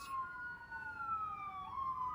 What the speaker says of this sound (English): I'm sorry that you can hear the sirens by my door.